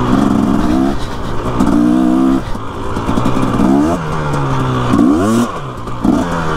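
A motorcycle's engine revs up and drops repeatedly in loud, close surges as its tires spin out on hard-pack dirt, the pitch sweeping with each burst.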